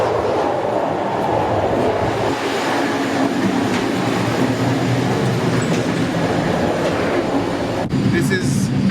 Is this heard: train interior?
yes